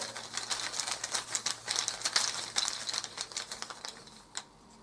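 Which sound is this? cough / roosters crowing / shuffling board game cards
shuffling board game cards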